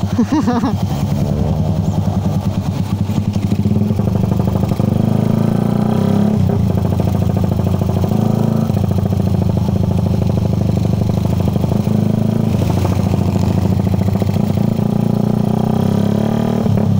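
Modified motorcycle with open pipe exhaust, carburetor and racing CDI runs loud and close, a steady rough low engine drone with small revving swells throughout, no talking.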